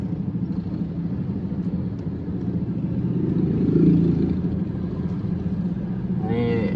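Road traffic rumbles on a narrow, congested street in Prabumulih, South Sumatra, with a large bus stopped to pick up passengers; a steady low engine drone swells in the middle and fades again, with a brief higher whine near the end.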